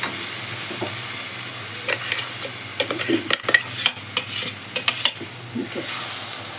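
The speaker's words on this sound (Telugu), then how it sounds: "ఇది మనం ఇందులోకి మనము మిక్సీ వేసి పెట్టుకున్న గ్రేవీ వేసేద్దాం." Masala gravy from the mixer is stirred into roasted paneer in a pan for methi paneer masala, with steady sizzling and repeated scraping strokes of a spoon against the pan, close and clear throughout.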